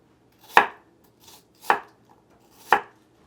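Three sharp, evenly spaced knife strokes cut an apple into slices on a cutting board, each a crisp close thud with quiet gaps between.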